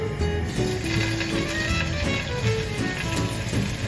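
Scallops sear in hot oil in a pan, giving a steady, crackling sizzle with fine spattering, close and moderately loud, with a few faint tones underneath and no talk.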